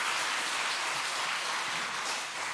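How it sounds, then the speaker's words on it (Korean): Church congregation applauding during a Sunday afternoon service, a steady dense wash of clapping that fills the whole stretch at moderate loudness with no talk over it. "축하 박수 한 번 더."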